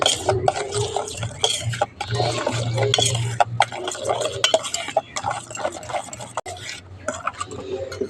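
Mustard oil, salt and turmeric powder being stirred together in a bowl, a steady scraping and clinking of a spoon against the dish with irregular knocks, close and fairly loud, no talking.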